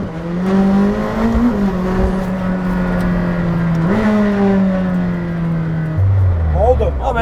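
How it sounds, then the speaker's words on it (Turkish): A McLaren Senna, an 800-horsepower supercar, revs its engine, a loud droning note that rises and dips in pitch, then drops lower near the end while people talk over it inside the car. "Yani böyle arabanın devri değişiyor falan."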